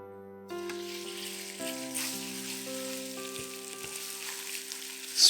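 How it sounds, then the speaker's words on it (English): Beef fries in hot oil in a pan with a steady, bright sizzle that swells as more meat goes in, while a low background hum runs underneath; no one speaks. "When the oil is hot, put in the beef."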